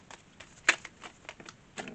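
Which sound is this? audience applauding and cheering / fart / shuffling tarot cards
shuffling tarot cards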